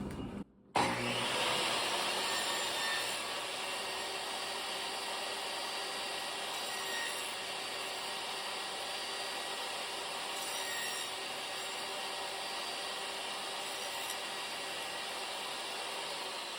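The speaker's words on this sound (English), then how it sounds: "So I line that up by the teeth of the saw to be exactly on point to where it needs to be, and I'll cut that." Hand saw cutting through wood for a grain wraparound joint, a steady continuous rasping stroke sound, close and fairly loud, starting after a brief pause and running alone.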